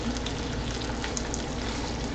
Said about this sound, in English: If the bacon sizzling and my kitchen sounds are too loud